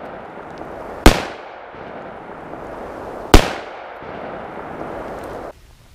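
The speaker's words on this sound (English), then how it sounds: "this time I'll shoot it with my Ruger Security 6 357 Magnum with a 4-inch barrel" Two loud, sharp .357 Magnum revolver shots from a Ruger Security Six with a 4-inch barrel, firing Remington 125-grain semi-jacketed hollow points at 7 yards, about two seconds apart, each with a short ringing decay over steady outdoor background.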